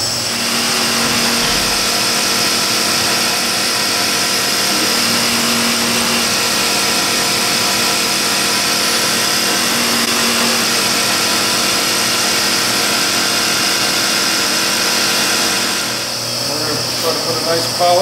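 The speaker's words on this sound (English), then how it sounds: "we need the small radius grinder for that." A small radius grinder works over a handmade knife in a knife shop, a steady loud whine that runs the whole clip, shifting slightly near the end as the grinding changes.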